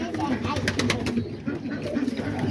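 Pigeons coo softly and repeatedly while feeding amid a flock of pet birds, with chirps and background noise around them.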